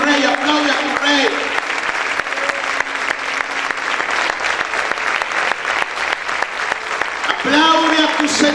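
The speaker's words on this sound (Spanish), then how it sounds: "aplaude a tu Rey." A church congregation claps loudly and steadily, a dense continuous wash of applause, with a preacher speaking at the start and end.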